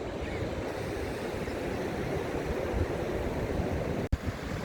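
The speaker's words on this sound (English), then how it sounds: "The tide's coming in now." The tide comes in over the shore at the petrified forest at Redcar, heard as a steady roar of surf and wind noise on the microphone, with one brief knock near the end and no talk.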